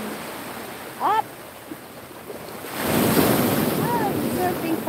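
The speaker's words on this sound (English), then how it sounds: "That's why the waves is very high already, but the water there is so shallow." Ocean waves breaking on a shallow shore during high surf, a roaring wash that swells louder midway under wind noise, with brief voices and exclamations nearby.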